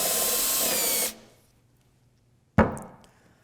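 A power drill whirs loudly boring a dowel hole in rocking chair wood, then stops and winds down; after a short silence, a sharp burst as the drill starts again.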